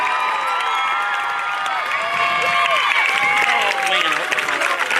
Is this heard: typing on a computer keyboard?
no